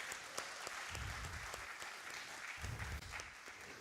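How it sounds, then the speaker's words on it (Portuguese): A church congregation at a family worship service claps together, the applause steady and moderately distant, swelling and easing across a few seconds. "vamos dar uma salva de palmas para a projeção hoje"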